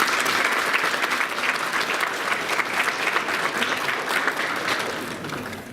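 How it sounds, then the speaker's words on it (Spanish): Loud, sustained applause fills a seminar hall at the close of a law seminar on negligent crime, dense clapping from a large audience holding steady before tapering slightly at the end. "Fuertes aplausos."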